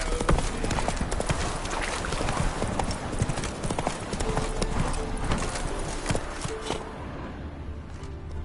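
Roach the horse gallops in a video game, hooves drumming in a fast steady clip-clop that fills the foreground alongside game ambience, with a brief whinny-like touch and a voice speaking faintly.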